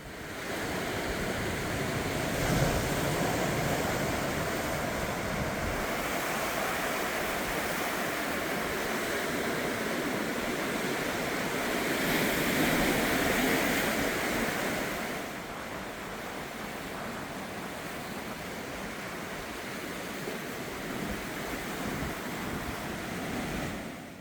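Heavy surf pounds coastal rocks along a seaside trekking path in Uljin, Korea, a continuous close roar of breaking waves that swells and eases, with wind noise on the microphone.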